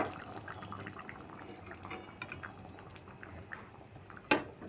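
Prawn, potato and pumpkin curry being poured from the cooking pot into a bowl: soft, wet slops and drips close by, ending in a sharper clink, with no talk.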